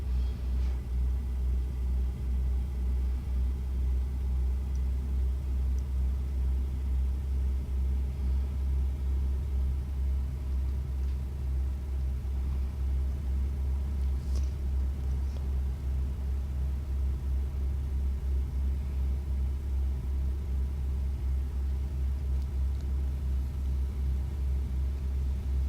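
A Peterbilt truck's engine rumbles steadily while driving, a constant deep drone with road noise that stays even throughout, with no talking.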